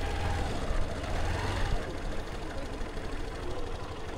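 A motorbike engine runs steadily near a flowering palash garden in Belur, Howrah, a dense low rumble that eases slightly after the first couple of seconds as the bike is brought to a stop.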